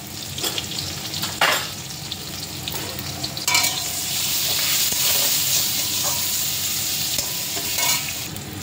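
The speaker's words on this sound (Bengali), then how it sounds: "আলু প্রায় ভাজা হয়ে গেল" Potatoes seasoned with salt and turmeric fry in oil in a wok, giving a steady close sizzle broken by the scrape and clatter of stirring, with no talking.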